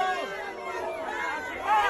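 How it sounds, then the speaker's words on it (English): Large crowd gathered at a Mayan pyramid booing a drunk tourist who climbed and danced on it, a dense wash of jeering voices and chatter heard from a distance, steady throughout. "Now they're booing her."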